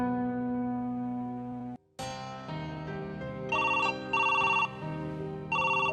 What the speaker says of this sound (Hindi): लो आ गया फोन। लो ये लो, बैल जा रही है।